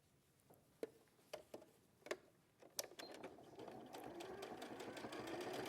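A domestic sewing machine stitches the hem at the bottom of a trouser leg, starting with a few separate clicks before settling into a steady, rising whir of rapid stitching.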